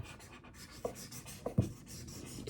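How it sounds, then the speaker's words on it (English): A marker writes across paper for a vision board, with soft scratchy strokes and a few sharper taps and squeaks as letters are formed, close and quiet with no talking. "I'm going to write"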